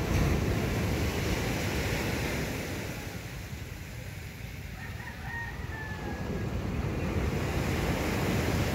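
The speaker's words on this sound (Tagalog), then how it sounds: "May tiyempong maliit ang alon pero may tiyempo nga na malaki." Ocean surf near a fishing boat launch rushes and roars steadily, easing briefly in the middle before surging again; a rooster crows faintly in the distance.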